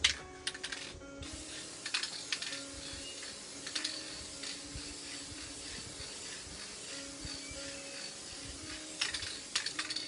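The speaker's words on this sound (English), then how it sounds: "I'm going to spray Willie." A hissing spray runs through most of the stretch with a few sharp clicks and small clatters, fairly close and moderately quiet, with no talking.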